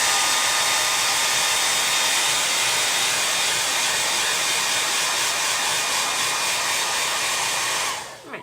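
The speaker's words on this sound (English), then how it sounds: "Let me just blow this dry real quick." A blow dryer runs steadily and loudly for about eight seconds, drying craft paint on a project, then cuts off abruptly near the end with no talk over it.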